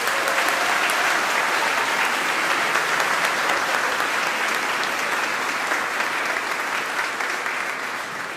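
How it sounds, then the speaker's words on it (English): A large school audience at a Gold Awards ceremony claps in a dense, continuous roar of applause that holds steady and loud for about eight seconds, easing slightly only at the very end. "Big round of applause, please."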